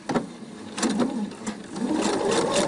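A Pfaff sewing machine sews a seam using a piping foot, with quick bursts of rapid mechanical stitching that start, pause and resume, close up and fairly quiet.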